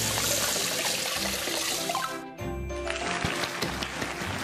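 Fish skin being rinsed under running water in a kitchen, a steady splashing trickle with a short break midway, close and fairly loud with no talk.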